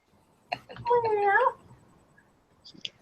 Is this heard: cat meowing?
yes